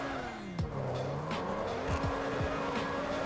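A Ferrari SF90 Spider in the driving game GTA 5 squeals and skids its tires over a steady engine drone, with pitch-bending screeches and sharp bursts of wheelspin repeating through the clip.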